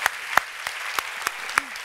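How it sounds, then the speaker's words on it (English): Sparse applause from an audience at a women in tech event, a handful of distinct claps at irregular intervals, fairly close and moderately loud. "And a big round of applause for Michelle."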